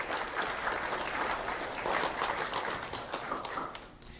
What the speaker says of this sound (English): let's have a round of applause for Lee County Electric Cooperative and Alliance Financial Group